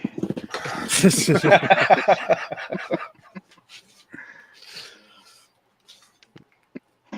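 A dog pants and breathes heavily up close, with rapid rough panting bursts in the first few seconds, then quieter scattered sounds and brief noises trailing off.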